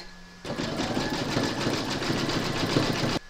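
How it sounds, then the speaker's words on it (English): An embroidery machine stitches a zigzag round joining appliqué ears to the hoop on a drawstring bag project, its steady rapid needle whir starting abruptly and stopping after about three seconds. "pop your hoop into your machine and stitch round number nine and that's going to zigzag over both the ears and join them to the hoop"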